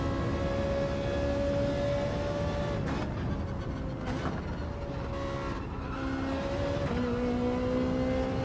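A Ferrari race car engine in a racing video game holds a steady high whine, with gear shifts and pitch drops recurring every second or so. It stays fairly quiet and even from start to end.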